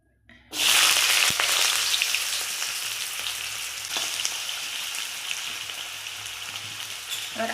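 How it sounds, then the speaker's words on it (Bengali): Potatoes dropped into hot oil in a pan after onions were fried, a sudden loud burst of sizzling that settles into a steady, close crackling fry with a few sharp pops. "আলুটা একটু ভেজে নেব"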